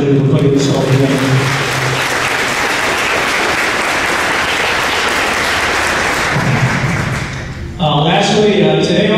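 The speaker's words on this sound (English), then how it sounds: "So a big round of applause for him for putting this all together." Audience applause at a Marine Corps JROTC birthday celebration, a sustained loud wave of clapping from a large crowd lasting several seconds, with a voice heard briefly before and after it.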